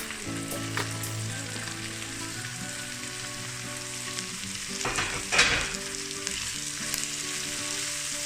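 Mixed vegetables of carrots, green beans and corn fry in a pot for egg fried rice, a steady dense sizzle with a louder burst of stirring clatter midway, no voices.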